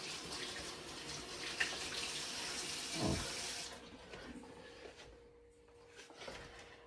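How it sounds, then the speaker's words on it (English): A kitchen tap runs while hands are washed, a close steady rush of water with splashing that stops after about four seconds, leaving small drips and faint handling sounds. "I'm gonna wash my hands real quick."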